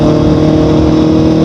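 A motorcycle engine drones steadily and loudly close by as a rider passes on a New Zealand road, a sustained rumble with no pauses and no talking.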